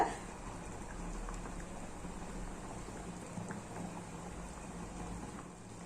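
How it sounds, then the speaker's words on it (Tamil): A pot of mutton kola urundai kulambu, a meatball curry with coconut, simmers and bubbles steadily, a soft continuous bubbling with faint pops, close but quiet and alone. "இப்போ நல்லாவே கொதிக்க ஆரம்பிச்சிருச்சு."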